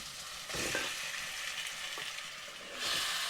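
Steady frying sizzle from a pan as prawns coated in salt and turmeric are added, with brief louder crackles as they are stirred, no voices.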